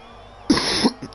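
A single cough, close and fairly loud, lasting about half a second with a slight second burst and a faint throat-clearing tail after it, against quiet background.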